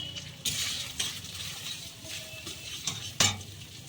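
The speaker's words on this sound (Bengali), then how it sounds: "দিয়ে মশলাটা ভালো করে কষিয়ে নেব।" Spices such as turmeric, chilli and cumin are sautéed in a pan for a banana flower curry, with quiet sizzling punctuated by several sharp scraping and clinking strokes of a spoon against the pan.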